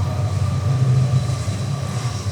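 A passing train rumbles nearby, a steady low roar with a faint hum above it that holds evenly through the short stretch, with no talking.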